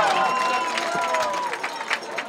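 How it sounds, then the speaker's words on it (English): Crowd at a high school football game, Placer Hillmen versus Pioneer Patriots, gives a brief, steady burst of applause and cheering from the stands, with a wash of broad crowd noise and faint voices mixed in. "the crowd applauds semi-sarcastically that there's no penalty on the field"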